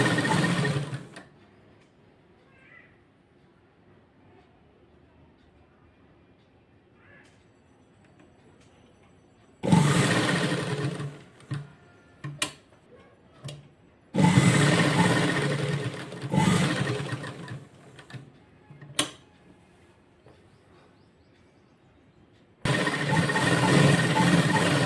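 An electric sewing machine stitches a designer blouse in bursts of steady, rapid whirring, the longest runs broken by brief pauses and clicks between quiet stretches.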